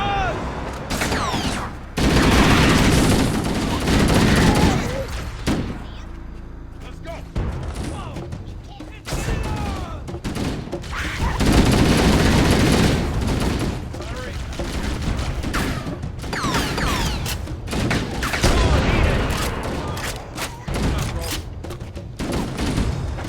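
Rapid gunfire from a stationary mounted gun in Halo: Combat Evolved, dense bursts of loud shots with thuds and explosions between quieter gaps, while a person talks over the action.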